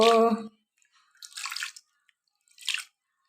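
Water drips and splashes in two short bursts while a small Gopal idol is bathed, following a brief voiced sound at the start, with quiet gaps between.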